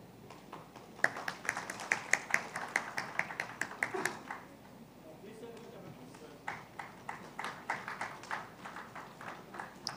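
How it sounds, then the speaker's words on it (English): Sparse, distinct hand claps from a small audience at a ceremony honouring Kerala ministers, a light patter in two bursts separated by a lull with faint talk. "Could we have a louder, warm applause?"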